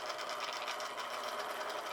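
A K-Line Hershey's model train set engine, a basic early locomotive, runs with a steady, fine, buzzing mechanical whir close by, continuous and even, with no talking over it.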